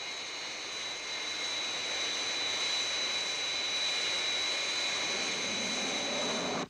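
Fireflash airliner on final approach, its jet engines roaring steadily and loudly with a high whine riding over the broadband rush, holding constant before cutting off abruptly at the end.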